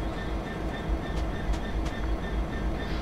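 A Class 66 diesel locomotive engine runs in the Train Simulator 2017 game as a steady, faint low rumble with soft mechanical rattles, continuous throughout and with no talking.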